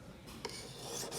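A finer file rasps across the blade of a Yakut knife in a few close, quiet strokes, a dry scraping rub with a brief brighter scratch near the middle.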